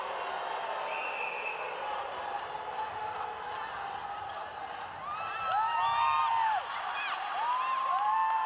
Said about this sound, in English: So the crowd not happy.